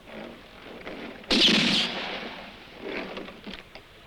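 A single loud revolver gunshot rings out in a Western film, a sharp blast with a short ringing tail that stands out against a quiet background.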